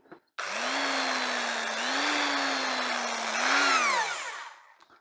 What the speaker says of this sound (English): Now, it's a two-speed drill.